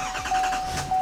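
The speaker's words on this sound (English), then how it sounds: "Turn the truck on." A 2020 GMC Denali Duramax pickup engine starts with a brief rising whir and mechanical rumble, close and steady over about a second.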